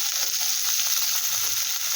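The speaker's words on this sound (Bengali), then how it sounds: "এবার আমি একটা এনে দিয়ে দিলাম কড়াইয়ের ভিতরে পেঁয়াজ, রসুন, আদা, কাঁচা লঙ্কা একসাথে আমি দিয়ে দিলাম কুচি কুচি করে" Chopped onion, garlic, ginger and green chilli frying in a little oil in a wok, a steady close bright sizzle holding even throughout with no talking.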